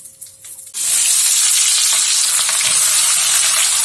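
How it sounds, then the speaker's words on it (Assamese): Chicken pieces with sugar hit a hot pan and break into a loud, steady sizzle after a brief quiet start, the frying continuing close and constant with no voices. "এইখিনি অলপ ভাজি"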